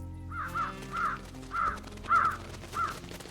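Crows in the video game Truberbrook: a crow caws five times in a steady rhythm, loud and close, with a low background drone.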